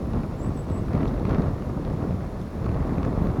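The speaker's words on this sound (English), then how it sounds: "Hear the wind." Wind blows across the microphone outdoors in a park, a steady low rumbling buffet with gusty swells, close and fairly loud, with no voices.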